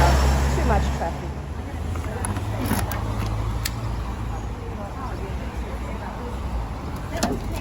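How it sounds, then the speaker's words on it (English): Busy road traffic near the top of a hill, a steady broad roar of passing cars that stays loud throughout, with a heavy low rumble at the start and a few brief higher sounds over it. "Oh wow, too much traffic."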